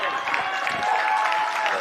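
A stadium crowd applauds and cheers steadily as a runner sprints down the final straight to win the Varsity Mile at the Oxford v Cambridge athletics match, with dense continuous clapping under a commentator's voice.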